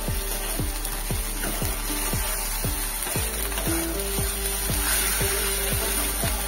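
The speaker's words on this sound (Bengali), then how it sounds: "এবার খুব ভালো করে সময় নিয়ে আমি পেঁয়াজটাকে কষাতে থাকছি" Onions sizzling steadily in a pan while being sautéed for koi fish curry, a continuous close frying hiss broken by a regular series of scraping, knocking stirs, with no talking.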